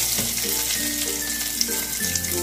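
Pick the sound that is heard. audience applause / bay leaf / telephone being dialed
bay leaf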